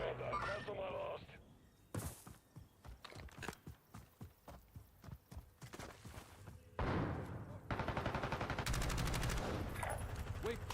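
Gunfire bursts out in a shooter video game, with a run of sharp repeated shots in the middle and a dense automatic burst near the end. Loud, close, choppy game effects and a voice are also present.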